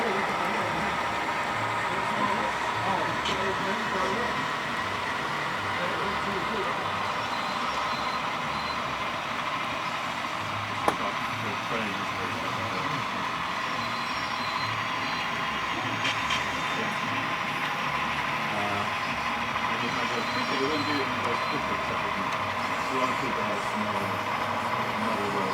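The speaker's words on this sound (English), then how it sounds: "down below we have our diesels pulling that train" Diesel locomotives hauling a train, heard as a continuous low rumble and clatter of rolling stock at a moderate distance, steady throughout with one brief sharp knock partway through.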